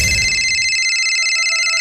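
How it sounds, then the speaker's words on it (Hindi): A telephone rings with a steady electronic warble, loud and close, sounding continuously with no voices over it. "आ गया, लगता है उसी का फोन है।"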